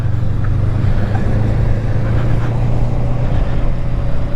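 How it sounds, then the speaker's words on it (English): A semi truck turns through traffic beside a Honda Rebel 500 motorcycle, making a steady, loud low engine rumble that continues without a break and covers the whole scene. "Let the semi turn."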